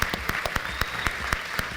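Sparse, evenly spaced claps ring out at a steady rhythm, a thin applause from a small group at a podcast event in Mérida, against a quiet background.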